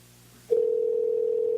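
A phone line rings out during a call to a show guest: after a short quiet stretch, a single steady, loud electronic ring tone starts and holds without a break.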